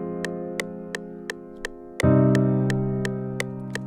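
Sustained piano chords change squarely on the beat, with a steady metronome-like click ticking evenly throughout; a fuller, louder chord enters midway and rings out, no voices present.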